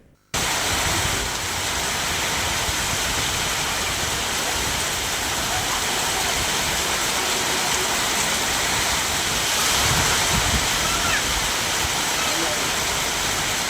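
Heavy thunderstorm rain pouring down in Madurai, Tamil Nadu, a dense, continuous close roar of downpour that holds steady throughout after a brief quiet start.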